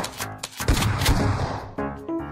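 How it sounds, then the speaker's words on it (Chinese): Shotgun blasts in the mobile game Metro Royale: a couple of loud, close booming shots in quick succession, with sharp attacks and decaying rumble, alone. "听枪声啊，是把喷子，慢慢接近。"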